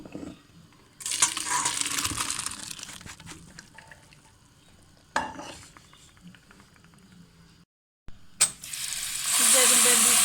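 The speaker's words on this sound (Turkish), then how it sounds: "Şimdi süzüyorum." Homemade Turkish erişte noodles drained through a strainer: a loud rushing splash of water pouring out, then a pause and a second heavier gush with hissing runoff, close by.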